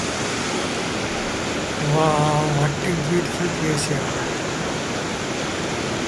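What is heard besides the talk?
fast-flowing mountain stream water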